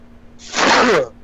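A single loud, close sneeze bursts out after a brief quiet inhale, then fades.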